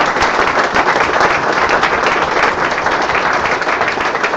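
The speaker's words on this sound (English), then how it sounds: "I think we should give those folks a round of applause as well" Crowd at a marriage equality seminar breaking into applause, a loud, dense, sustained clapping from many hands that stays steady from start to finish without talk.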